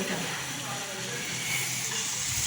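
Pakan pitha, sweet fried rice-flour cakes, fry lightly in shallow oil with a steady close hiss and sizzle throughout and no break.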